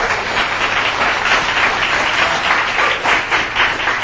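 An audience at a business seminar breaks into loud, sustained applause, a dense wash of many hands clapping continuously with no speech on top.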